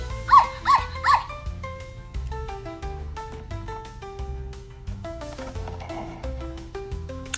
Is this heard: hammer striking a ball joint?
no